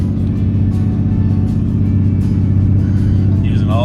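A car engine labors with a steady, loud drone while climbing a mountain road in freezing weather, its low rumble holding constant throughout without any spoken voices.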